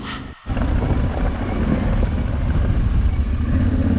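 A Yamaha Ténéré 700 motorcycle climbing a long rocky off-road slope over a thick bed of stones. The engine roars loud and steady after a brief dip, with rough broadband rumble and wind noise throughout, and no voices.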